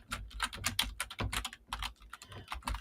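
Computer keyboard typing in quick uneven bursts of close, crisp key clicks with short pauses between words, steady and moderately loud, no voices.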